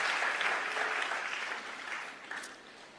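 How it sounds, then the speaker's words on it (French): Church audience clapping at a leadership gathering in Freetown, Sierra Leone, a dense burst of applause that is loudest at the start and slowly fades, heard from within the crowd. "Applaudissez pour tous ces points puissants."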